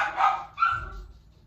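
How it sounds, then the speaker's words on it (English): A dog gives two quick barks close by, followed by a low, fading rumble. "They keep barking."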